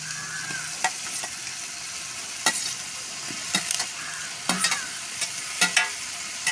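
Cauliflower fries in hot oil with garlic for a vegetable biryani, a steady soft sizzle broken by sharp scrapes and clinks as a spoon stirs the pan at irregular intervals.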